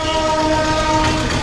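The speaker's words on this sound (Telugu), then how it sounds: "రైలు వెళ్ళిపోతుంది." A train rolls past nearby, a steady loud rumble of wagons with a sustained horn tone running through the whole short moment.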